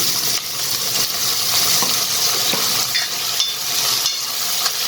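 Potatoes and onions fry in a pan for a fenugreek-and-potato curry, giving a steady, close hiss of sizzling with occasional stirring scrapes throughout.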